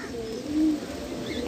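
A green-eyed magnet pigeon gives one brief, soft coo at close range, low and rounded against a quiet loft background.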